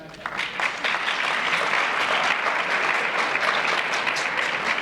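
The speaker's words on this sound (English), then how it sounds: "you all deserve a round of applause for that" Audience at a high school winter sports awards ceremony applauding: dense, sustained clapping from a large crowd that starts abruptly and holds steady at full strength to the end.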